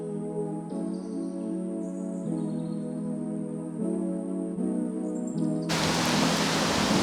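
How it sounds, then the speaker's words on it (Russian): Wind blows outdoors, breaking in as a loud, rough buffeting gust near the end after a stretch of steady humming tones. "Ветрено."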